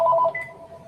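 Telephone ringing with a short electronic tone burst, close and brief, fading into quiet room noise.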